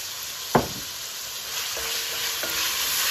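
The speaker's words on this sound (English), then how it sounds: "Just gonna stir fry this for about 5 minutes." Chicken chow mein stir frying in a pan with soy sauce, a steady soft sizzle and a scrape of the utensil near the start, followed by a few light clinks, close and alone without talk.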